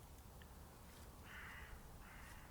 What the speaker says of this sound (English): behind me, you might be able to hear the crows.